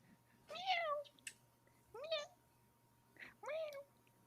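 A cat meows three separate times in a series of rising and falling, drawn-out calls with short pauses between them. It is fairly close but quiet, over a faint steady hum and with no voices.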